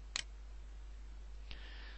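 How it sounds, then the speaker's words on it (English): Two sharp, faint clicks from a computer mouse, one near the start and another about a second and a half later, sit over a quiet background hum. "specifying the second point with a mouse click"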